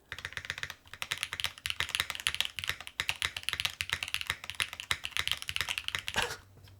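Fast, steady typing on a mechanical keyboard gives a close run of crisp clacking keystrokes, dense and rhythmic, heard alone for several seconds before trailing off.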